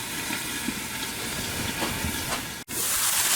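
Pork chops cook in a covered pan with trapped moisture, giving a steady close hiss of steam that cuts off briefly near the end, then returns slightly louder.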